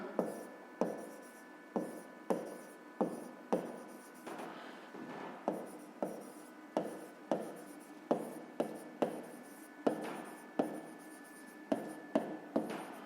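Pen writing on paper during a 5th-grade math exercise, a steady run of short scratchy strokes with brief pauses between them, close and quiet, with no talking.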